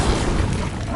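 A fiery Incendio spell is cast in Hogwarts Legacy, a single broad whooshing burst that stays loud and dense through the whole short moment, with no talking over it.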